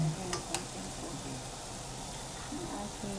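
Ground pork curry stirred in a hot pan, a steady close sizzle and frying crackle with a couple of brief scraping clicks near the start.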